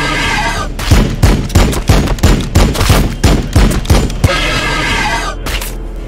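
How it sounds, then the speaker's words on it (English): Rapid bursts of gunfire from the Warhammer 40,000: Battlesector strategy game, loud sharp cracks repeating in an uneven rhythm over a continuous battle din, with no talk. "Firing on the enemy."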